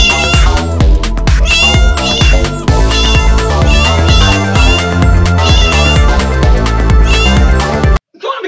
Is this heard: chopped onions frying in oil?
no